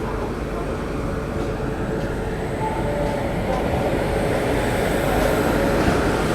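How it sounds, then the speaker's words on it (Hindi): A Shatabdi Express train departing Bhopal Junction, its continuous loud rumble and rolling rail noise steady throughout with a faint tonal whine, heard from on board. "अपने राइट टाइम पे बिल्कुल आई है और राइट टाइम पे ही डिपार्चर ले लिया है भोपाल जंक्शन से"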